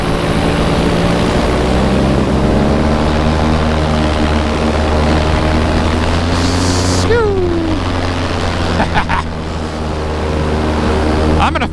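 A Tornado 280 XC boat engine hums steadily at smooth throttle, a loud continuous drone holding even throughout with a brief rising whine midway and a faint voice at one point.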